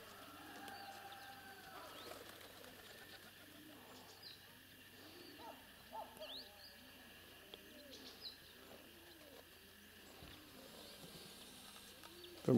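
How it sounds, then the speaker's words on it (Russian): Soft wild pigeon coos repeat at intervals outdoors in the early morning, low and gentle, with faint chirps and a quiet ambient hum behind them. "дикие голуби ждут свой обед."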